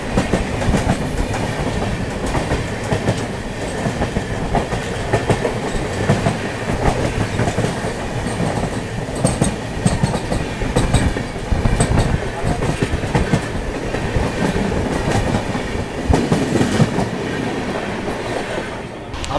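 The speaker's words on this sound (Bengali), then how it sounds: "কলকাতা থেকে আসানসোল জংশন পর্যন্ত আমাদের এই ট্রেন ননস্টপ চলবে 205 কিলোমিটার" Akal Takht Express passenger train runs steadily on rails, a loud continuous rumble with rhythmic clickety-clack of wheels over track joints, heard from inside the carriage.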